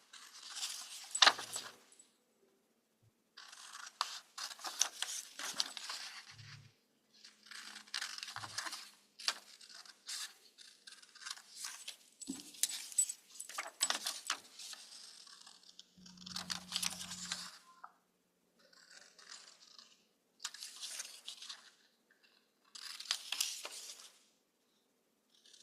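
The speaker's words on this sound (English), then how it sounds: "Follow the line and cut it." Holiday card paper is cut along a line in a series of short, crisp crunching and snipping bursts separated by brief pauses, close and fairly quiet, with no talking.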